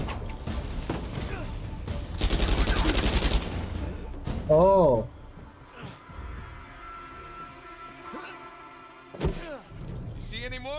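Sniper and automatic gunfire in Uncharted: A Thief's End, a dense loud burst early on followed by scattered shots and game effects, with a voice talking over the action.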